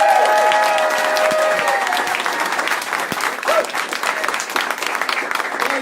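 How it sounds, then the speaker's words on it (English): Sustained applause from an audience in a San Francisco venue, Manny's, welcoming Andrew Yang, steady and dense throughout with a faint voice or two mixed in. "So let's put a round of applause together for Andrew."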